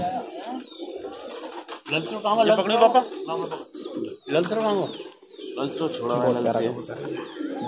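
High flyer pigeons of the Khatang Tiger breed coo softly in low, throaty bursts while someone talks over them nearby.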